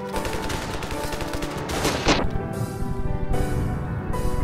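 Sniper rifle shots in the Ravenfield video game beta, loud reports layered over continuous battle noise and dense gunfire throughout, with a sharp burst near the middle.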